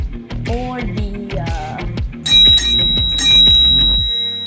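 A bright ringing bell sound effect, two sharp metallic dings around the midpoint following a busy run of plucked tones and clicks, loud and close with no talk.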